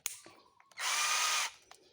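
Copy-brand cordless drill running in drilling mode, a steady high whirring burst lasting under a second, close and loud, set between quieter clicks and handling sounds.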